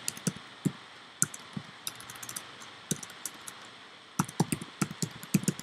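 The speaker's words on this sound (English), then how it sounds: "I'm gonna type in our domain name for the website I want to go to" Keys clack on a computer keyboard in irregular bursts of quick taps close to the microphone, pausing briefly before a faster final flurry.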